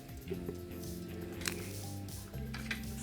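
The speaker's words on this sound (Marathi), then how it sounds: "व्यवस्थित सर्व मिक्स करायचं आहे" Sieved sorghum flour and water being stirred together in a bowl make soft, wet squishing and occasional light clinks, faint and close over a quiet background hum.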